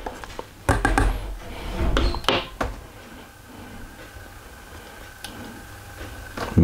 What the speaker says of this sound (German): Immer wieder mal umrühren zwischendrin.